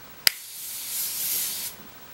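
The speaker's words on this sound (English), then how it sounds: "So it's basically just a spray SPF." A quick click is followed by a steady, airy hiss of sunscreen mist spraying for over a second before cutting off, close and fairly soft.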